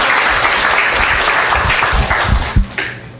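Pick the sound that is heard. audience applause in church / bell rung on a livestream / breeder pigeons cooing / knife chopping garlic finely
audience applause in church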